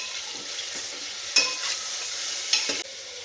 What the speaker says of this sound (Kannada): ಮಟನ್ನು ಸ್ವಲ್ಪ ಫ್ರೈ ಮಾಡ್ಕೊಳ್ಳೋಣ.